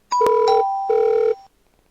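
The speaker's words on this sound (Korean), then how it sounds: "구루한테 전화 바로 해야지" A mobile dating-game phone call rings out in two clear electronic ringtone bursts with a short gap between, loud and alone with no talk.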